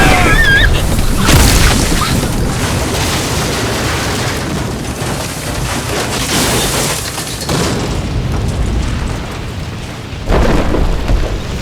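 Dramatized thunderstorm effect during a scene of a small aircraft caught in a storm: heavy rain hiss runs throughout while loud thunder booms and crashes break in near the start, around the middle and again near the end.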